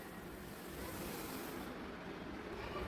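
Wheat semolina goes into a pot of boiling water for upma, with a steady, even rushing and bubbling hiss that holds at a moderate level throughout. No one speaks.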